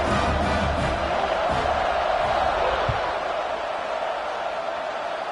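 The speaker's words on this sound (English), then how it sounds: "this crowd is buzzing after that last score" Football stadium crowd keeps up a loud, steady roar after a touchdown, a dense wash of voices with occasional shouts and thumps, continuous throughout.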